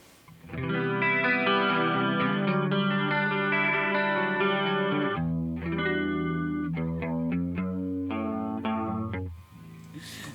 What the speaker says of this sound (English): That chorus sound with some stereo delay.